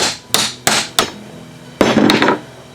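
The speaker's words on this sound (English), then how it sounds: "Take yourself a nifty hammer, just going to smack up and over." A hammer strikes a metal DIY barn door roller in sharp, ringing blows, three evenly spaced hits and then a quick cluster of two or three, close and loud, with no voices.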